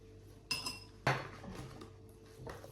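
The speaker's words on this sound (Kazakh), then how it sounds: "Енді бір орта қасықпен міне осылай тұзымызды салып аламыз." A medium spoon clinks twice against a bowl while salt is added to croissant dough, two bright metallic knocks followed by a soft scraping shuffle, close and fairly quiet.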